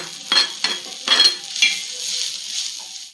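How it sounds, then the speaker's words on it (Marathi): Onion roasting in a pan crackles in bursts as a spoon stirs it, with several loud scraping strokes up close and a softer sizzle between them, fading out at the end. "तर कांदा भाजून घेऊया."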